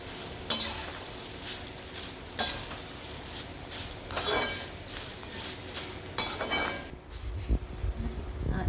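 Garlic paste fries and sizzles steadily in a pan while a utensil stirs it, with occasional clinks of metal on the pan and no talking.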